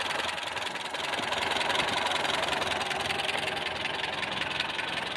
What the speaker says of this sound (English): Volvo red block engine